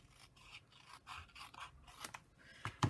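Scissors cutting through paper card, a series of short crisp snips and rasping scrapes up close, quiet and fairly rhythmic, with no voices.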